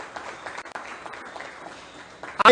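Applause from the audience for awardees at a chamber of commerce annual awards gala, a steady, moderately faint patter of clapping lasting a few seconds, swelling louder at the very end.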